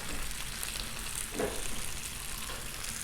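Breakfast slider ingredients sizzle on a Blackstone griddle, a steady, even crackle of frying that holds at moderate loudness throughout, with a faint scrape partway through.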